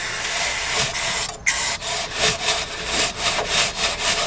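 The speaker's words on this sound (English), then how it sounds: "Bit of agitation of the carb cleaner with the wheel brush." Wheel brush scrubbing a Lotus Evora exhaust soaked in carb cleaner, a loud, close, continuous rasping scrub in rhythmic back-and-forth strokes with no talk.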